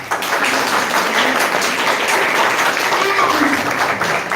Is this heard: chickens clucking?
no